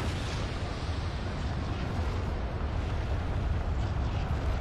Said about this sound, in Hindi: धमाका हुआ और ये ज़ॉम्बीज